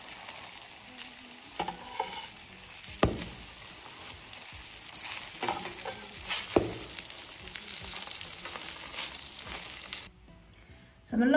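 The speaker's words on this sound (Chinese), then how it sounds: "咱们烙制过程中给它勤翻面勤转动，让其受热呢均匀" Cabbage-filled pies, made without egg or rolled dough, pan-fry in oil and are turned and rotated often, giving a continuous close sizzle with occasional scraping shuffles, then a brief drop to near quiet before the sizzle returns.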